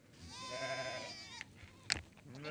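Goats and sheep on a Mongolian pasture bleat in a long, wavering call that swells and fades over about a second, followed by a sharp knock and quieter rustling, with another bleat beginning at the end.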